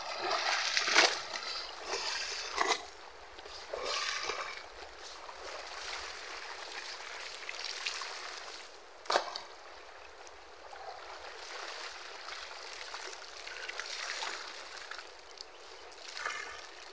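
Clothes being rinsed by hand in a river, with irregular splashes and sloshing of water over a steady stream wash; a few louder splashes stand out near the start and middle.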